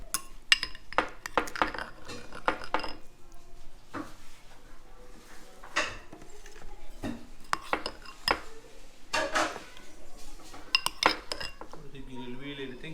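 Curry gravy being served from a clay pot into a dish in a home kitchen, with repeated clinks of a spoon and dish in irregular bursts, close by, while someone talks over it.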